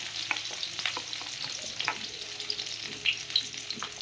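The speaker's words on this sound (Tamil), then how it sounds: "அதுக்கு நல்லா பொன்னிறமாக வறுக்கணும்" Onions fry in hot oil with mustard seeds, a steady close sizzle broken by scraping stirs and a few small pops.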